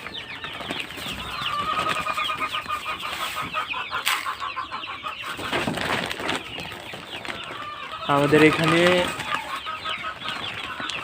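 Backyard chickens and a rooster, egg-laying hens given Nourish Layer 1 feed, cluck and chatter steadily at close range, with a louder burst of squawking near the end while someone speaks briefly.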